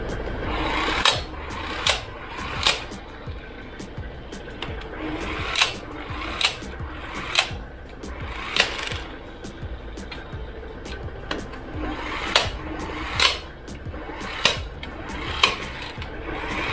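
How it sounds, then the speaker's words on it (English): A 12-volt impact wrench, powered from the car battery, removes wheel nuts on a Mitsubishi Triton ML L200 pickup. It fires in repeated short, sharp hammering bursts at close range, separated by brief pauses. "I'm going to use the impact wrench, which is 12 volts and it's powered through the car battery"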